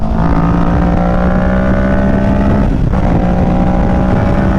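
A 2023 Kawasaki Ninja 650 motorcycle accelerates hard in fourth gear, its engine note a loud continuous drone that climbs steadily in pitch, with heavy wind rush.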